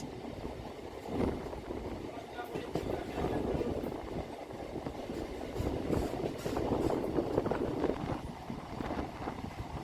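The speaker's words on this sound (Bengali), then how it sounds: "নর্থ সাউথ মেট্রো বেলগাছিয়ার দিকে যাচ্ছে আসছে" A Kolkata North-South metro train running toward Belgachia, heard as a steady rumbling roll with rhythmic rail clatter and occasional squeals, continuous and moderately distant.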